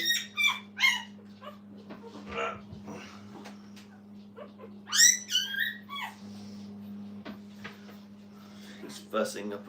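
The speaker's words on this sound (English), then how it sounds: "you hear fussing here from the little liver one" A liver-coloured puppy from a litter of seven whimpers and squeaks in short high bursts, fussing repeatedly over a steady low hum, with occasional soft voices in the background.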